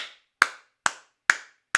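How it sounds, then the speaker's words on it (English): Sharp, isolated claps open a DJ intro edit. Four crisp, dry hits come at an even pace about half a second apart, each ringing out briefly before silence, with no other sound around them. "an edit that starts with a clap"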